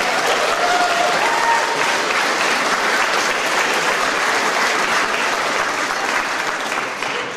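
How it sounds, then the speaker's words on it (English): Sustained applause from an audience at an awards announcement for plain English document finalists, full and even for several seconds before easing slightly at the end. "Please give them all a round of applause."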